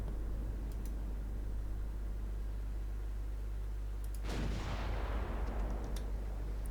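A single heavy boom from naval main guns in the warship game Ultimate Admiral: Dreadnoughts, a deep blast with a long rumbling decay over a constant low engine drone, plus a few faint ticks.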